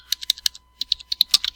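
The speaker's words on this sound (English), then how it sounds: "So now I can start typing." Rapid, uneven keystrokes on a computer keyboard while entering text in AutoCAD, crisp close-up clicks in quick bursts with a short pause midway.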